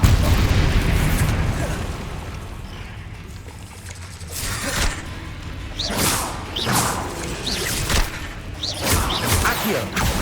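Confringo blasting spells in Hogwarts Legacy, cast in a row as several whooshing, booming bursts with crackling debris. The blasts are loud and come in quick succession, and voices mix in under the sound.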